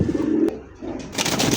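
A pigeon coos nearby in a low, rolling call, followed by a short burst of rustling or wing noise.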